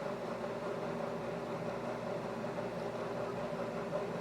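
An off-grid microwave oven rated around 1650 watts runs steadily, giving a constant mid-level electrical hum with a faint mains-like drone and fan whir, unbroken and without talk.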